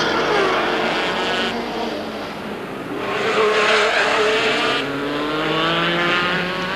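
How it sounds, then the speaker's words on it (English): A Jaguar V12 race car accelerates hard out of a hairpin past the marina at the 1984 IMSA Budweiser Grand Prix of Miami, a loud sustained engine roar that swells, dips and surges again with no talk. "The V12 engine powers the car out of the hairpin."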